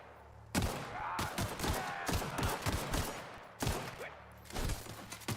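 Gunfire in the video game The Outer Worlds, a series of sharp, loud shots in irregular bursts, some close together and others spaced apart, with ringing tails between them.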